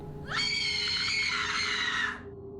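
A woman's single sustained, high-pitched scream of fear lasting about two seconds, loud and close, with no talking around it.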